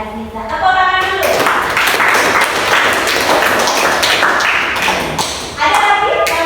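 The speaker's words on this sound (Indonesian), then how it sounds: "Tepuk tangan dulu." Students clap together in a classroom after a classmate answers a biology question, a steady patter of many hands filling most of the stretch, with a teacher's voice before and after.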